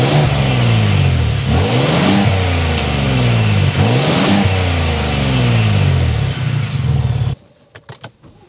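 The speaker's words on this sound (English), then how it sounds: "We need to go inside and start it up so you can hear that exhaust note." A 2024 Ford Expedition Timberline with the twin-turbo high-output engine revs repeatedly from inside the cabin, its loud exhaust note rising and falling in several pulls before cutting off, followed by a few faint clicks.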